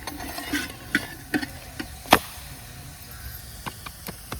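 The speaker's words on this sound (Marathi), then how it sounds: "कांदा परतायचा आहे पहिल्यांदी." Onions are sautéed in a pan as the first step of a Dhangari-style mutton curry, with irregular scraping and clinking stirs over a faint sizzle, no voices.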